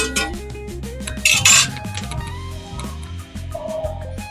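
A lid set onto a pot of cooking chicken liver and ridge gourd with poppy seed, with a brief metallic clatter and clink up close amid soft kitchen clanks.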